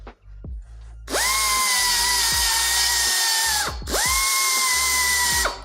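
Finger sander working on rusty Ford bodywork, two sustained high-pitched whining runs of about two and a half and two seconds, the second starting after a brief stop, loud and close with no talk.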